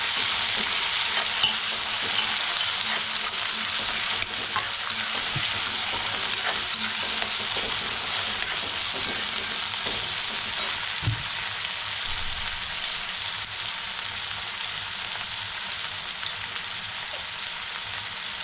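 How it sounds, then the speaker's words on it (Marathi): Tomato and onion fry in oil in a pan, giving a steady hiss of sizzling with occasional scrape and clink of a spoon stirring, close and continuous, no voices. "टोमॅटो आणि कांदा एकदम तेलामध्ये असं शिजला पूर्ण"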